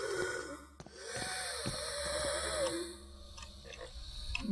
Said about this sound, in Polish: O nie, znowu tu to ciężko oddychające coś.